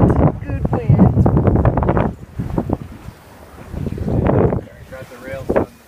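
Wind gusts buffet a sailboat under way, with broad rushing noise and microphone buffeting rising and falling, while people talk nearby over it.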